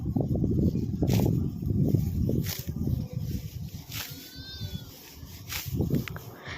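A ram on a farm bleats once or twice, thin and fairly distant, amid shuffling movement and low background voices.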